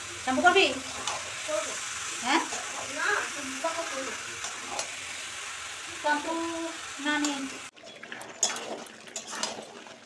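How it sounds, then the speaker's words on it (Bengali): Meat sizzling and frying in a pan of fried onion, chili and turmeric masala, a steady crackle under intermittent talk, with stirring sounds and a louder burst of sizzle near the end. "তারপরে দিয়ে মশলা কষানো হয়ে যেতে মাংসটা দিয়ে দিচ্ছি।"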